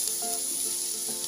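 Chopped onion and spring onion hit hot ghee with vegetables, producing a close, even sizzle that holds steady for a moment, with no talk.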